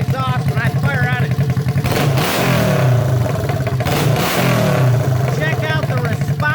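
A Honda CB350 motorcycle engine on its first start after restoration, revving in two strong throttle blips over a running idle, loud and close, with someone talking over it.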